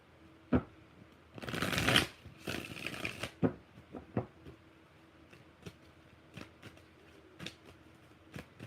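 Tarot cards being shuffled by hand: two long riffling bursts near the start, followed by a string of sharp, separate taps and snaps as the deck is squared, close and fairly quiet with no talk.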